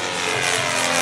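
A radio-controlled scale model Zlin aircraft flies at a model show, its propeller engine a loud, steady, close buzzing drone throughout the short moment.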